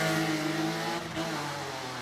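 A drift car's engine holds a steady, loud, high-revving drone with a brief dip near the middle before climbing back, heard alone without voices.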